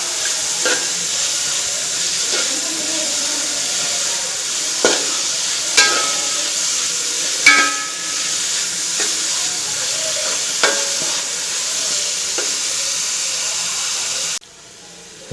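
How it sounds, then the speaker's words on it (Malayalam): Onions sautéing in a pan for a pepper chicken curry give a steady, close sizzle and hiss, broken by occasional stirring scrapes and knocks of a spoon, until the sound cuts off abruptly near the end. "അപ്പോൾ ഉള്ളി നല്ലപോലെ വഴണ്ട് വന്നിട്ടുണ്ട്"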